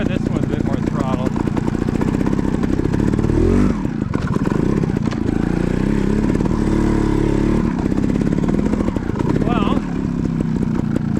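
A trials motorcycle on a creek trail chugs loud and close as it climbs over a log, its engine pulsing with short bursts of throttle among clattering. A person speaks over the engine.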